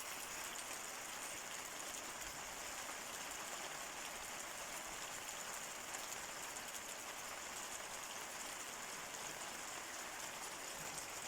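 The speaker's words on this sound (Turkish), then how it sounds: "Nasıl güzel yağıyor, nasıl güzel yağıyor" Continuous rain from a downpour in a Turkish village hisses evenly throughout, a soft, steady wash of falling drops with no voices.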